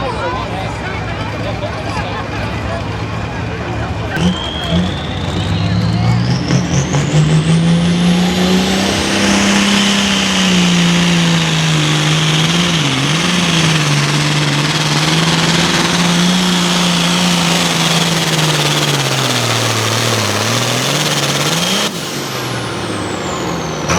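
A Super Pro farm tractor hauls a weighted sled down a dirt track at a tractor pull at Millers Tavern, its engine roaring loud and steady with the pitch swelling and dipping for about twenty seconds, a voice faintly audible beneath.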